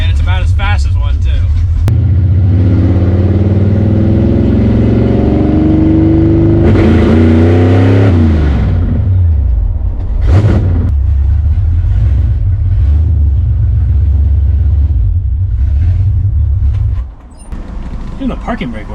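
Big block Ford Galaxie with a new 4-speed driving, its engine rumbling loudly and steadily with rising revs and a brief drop near the end, close and alone without talk.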